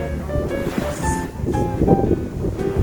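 Waves wash and slosh against rock inside a small sea cave with a hollow churning, wind noise rolling over the microphone throughout.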